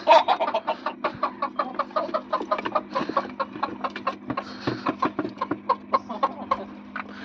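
Backyard chickens cluck steadily in a quick, uneven rhythm of short calls at close range, with no talking over them.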